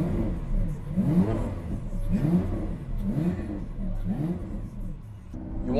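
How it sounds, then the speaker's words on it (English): A car engine revs several times in a row, each rising and falling whir close by and moderately loud, with faint voices in the background. "You want to hear the engine before we take off?"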